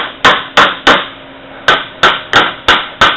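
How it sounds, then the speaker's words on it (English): Sharp metallic hammer blows on a fertilizer auger being rebuilt ring out close by, seven strikes in two quick bursts with a brief pause between, each tailing off with a short ring. "Sometimes I need the hammer."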